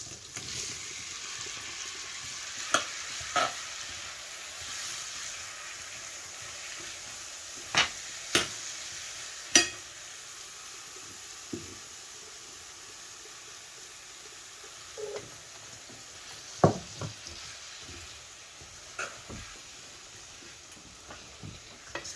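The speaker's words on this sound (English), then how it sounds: "And I'm just going to keep stirring." Quiet sizzling of apple pie filling soaked in sugar and applesauce in a pan, with a soft steady hiss and occasional sharp clicks and scrapes of a utensil as it is stirred.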